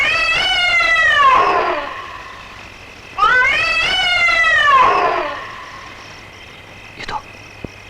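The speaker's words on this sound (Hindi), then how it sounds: "उसी बिल्ली की आवाज है।" Two long, loud drawn-out cat meows, one after another with a pause between, close and clear, in a scene from the 2024 Hindi-dubbed horror film Munjya, followed by a faint short sound.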